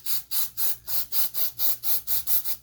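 An aerosol electrical cleaner can hisses in about ten quick, even bursts into an RZR 800S intake, close and loud, each spray a short rush of bright hiss.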